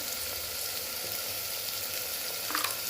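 Homemade masala and coriander powder sauté in a hot pan for Khandeshi masala khichdi, giving a steady, close sizzle of frying with a faint stir or scrape near the end.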